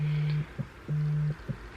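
A telephone rings with an incoming call, giving two long steady electronic tones separated by short pauses and soft clicks, clear and moderately loud in a quiet room.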